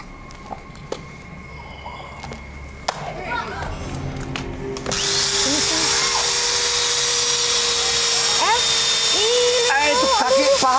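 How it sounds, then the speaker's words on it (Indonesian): A power drill bit spins up partway through and then keeps running as a loud, steady, high whine. Excited voices talk and call out over it on an Indonesian television show. "Dia nunjukin kalau bor ini tajam."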